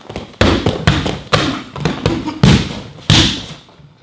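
A series of fast martial arts kicks land on a target, producing about seven loud, sharp thuds at a quick, slightly irregular pace, each with a brief ringing decay.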